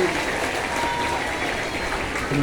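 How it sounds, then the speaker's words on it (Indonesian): Students applauding at a National Children's Day school ceremony at a junior high in Kupang, a loud, dense, sustained roar of many hands clapping that holds steady throughout. "Mari kita tepuk tangan buat teman-teman."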